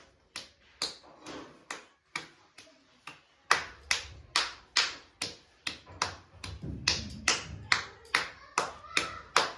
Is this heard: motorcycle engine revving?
no